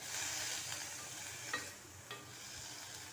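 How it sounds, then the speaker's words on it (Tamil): Mutton liver sautéing in a pan, a faint continuous sizzle with a few soft stirring scrapes of a utensil, quiet and close. "ஈரல் நல்லா வதக்கியாச்சு"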